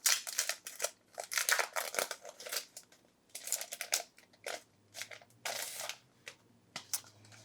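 Paper and card rustling as a craft folder for a Halloween paper-crafting project is opened, a string of close, crisp crinkles and rubbing bursts with short gaps, quiet and without speech.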